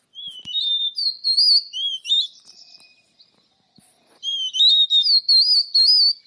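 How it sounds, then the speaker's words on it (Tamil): A drongo (kundu karichan) sings in the field, a series of clear, sweet whistled phrases in two bursts separated by a short pause, loud and close with no talk. "இந்த குண்டு கரிச்சான் வந்து அழகாக பாடுறது"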